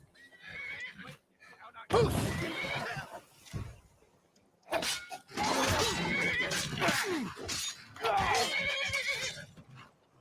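Several sharp horse neighs and whinnies from the video game Skyrim come in bursts, loud and close, with quieter gaps between them.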